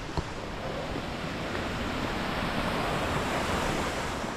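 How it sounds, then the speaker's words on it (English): A river flows near a snow-free hiking trail on the way to Mirror Lake, a steady broadband rush of water with some wind across the microphone, continuous and even throughout, with no voices. "Once you hear the river"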